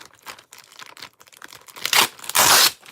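Tape is torn open on a taped-shut package, starting with small crinkling rips and building to two loud, harsh tearing bursts near the end.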